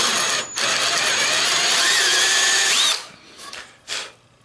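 A power drill whirs close up, its pitch rising as it bites into the wood of an antique chair, then cuts off, leaving a couple of short mechanical clicks.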